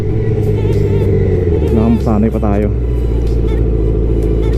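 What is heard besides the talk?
Yamaha R1 motorcycle engine revving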